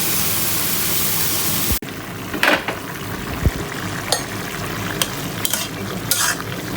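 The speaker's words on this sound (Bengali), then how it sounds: "মাছ আলু একবারে দিয়ে কষাই নিচ্ছি" Fish and potatoes fry with spices in a pan: a loud, dense sizzle at first, then a softer sizzle broken by scattered clinks and scrapes of stirring.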